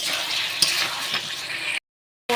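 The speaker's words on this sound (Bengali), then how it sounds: "এবার আমি এর মধ্যে দিয়ে দেবো পটলটা দিয়ে আরও আমি 2 থেকে 3 মিনিট ভালো করে কষিয়ে নেব" Pointed gourd (potol) sautés in hot oil, giving a bright, steady hiss up close for under two seconds before it cuts off abruptly.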